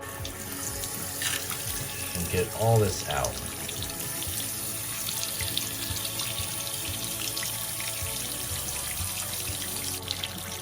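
Hot water runs steadily from a tap into a sink, a constant rushing hiss throughout, with someone speaking briefly early on.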